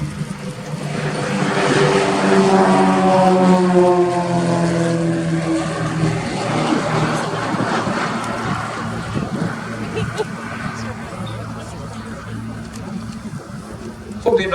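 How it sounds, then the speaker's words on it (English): Royal Jordanian Falcons Extra EA-330LX aerobatic planes get airborne at RIAT 2025, their propeller engines droning loudly and shifting in pitch as they climb away, under a commentator's voice. "EA-330LXs on the Royal Jordanian Falcons, getting airborne to initially position"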